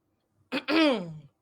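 A single short throat clearing, close and quiet, a quick rough catch followed by a longer voiced rasp.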